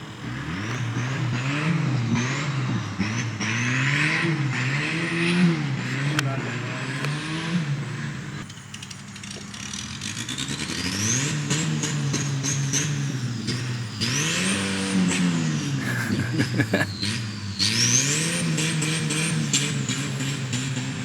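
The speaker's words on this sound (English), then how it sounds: "This dude out here with a hood stacked Fox body drifting in his yard." A hood-stacked Ford Fox body drifts in a yard, the engine revving hard in repeated rising and falling surges with some squeal. The sound is moderately distant and people talk over it.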